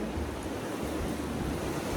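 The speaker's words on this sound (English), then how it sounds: "the ocean is windy and moody" Windy ocean waves on the coast, a steady broadband roar of surf mixed with wind buffeting the microphone, continuous and fairly loud with no voices.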